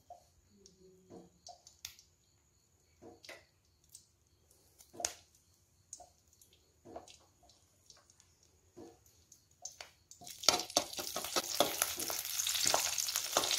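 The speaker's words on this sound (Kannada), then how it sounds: "ಕರಿಬೇವು ಹಾಕೊಂಡೆ." Curry leaves dropped into about a tablespoon of hot oil in a pan for carrot paratha, scattered small pops and crackles at first, then a sudden dense sizzle that stays steady to the end.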